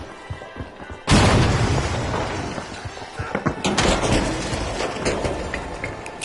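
Frag grenade blast in the shooter game The Finals: a sudden loud boom that hits at once, with a shattering tail and scattered gunfire-like cracks as it fades.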